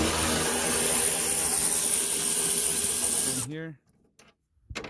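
A power tool whirring steadily while Torx bolts are removed from a truck bed, running close and even for a few seconds before cutting off, followed by a brief low voice and a clunk.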